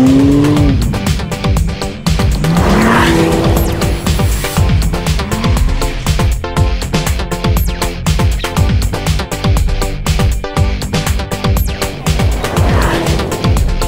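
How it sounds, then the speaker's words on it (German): A BMW Alpina B3 Biturbo with an Akrapovic exhaust roars loudly and continuously through rising and falling revs, with a deep rumbling tone, tire noise and a brief squeal, recorded close without talk. "Die Agrapovic-Anlage bietet tiefen, bassbetonten, richtig coolen Sound."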